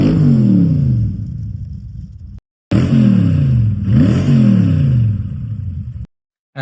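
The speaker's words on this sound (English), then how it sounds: "So now I'm going to be quiet and let you listen to this beautiful engine." A Dax Cobra's engine idles and revs up twice with a deep, rising rumble, loud and close, with short breaks of silence between bursts and no talking.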